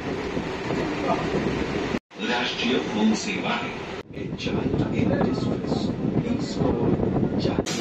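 A train rumbles in at a Sealdah station platform, a loud, continuous rolling roar with wind buffeting and background voices mixed in.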